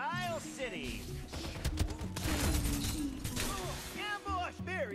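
Rapid gunfire bursts and impact crashes in the shooter video game Farlight 84, dense and loud through the middle, with voiced game lines and chatter over the shots.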